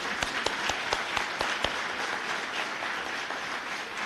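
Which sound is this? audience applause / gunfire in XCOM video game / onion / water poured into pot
audience applause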